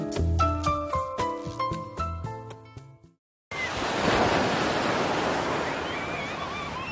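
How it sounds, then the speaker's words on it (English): Open-sea waves roll at Jinshitan in Dalian, a broad, steady wash of surf and wind noise that follows a short stretch of piano music, loud and continuous to the end. "We have the open sea."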